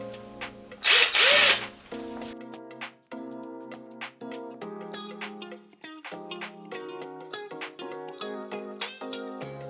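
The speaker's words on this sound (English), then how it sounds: "once we drill those out, we should be able to just take it out" A power drill bores out the metal hard drive cage of a Dell OptiPlex desktop, opening with a loud burst of whining drilling, then a long run of sharp clicking, ratcheting mechanical sounds from the tool, close up.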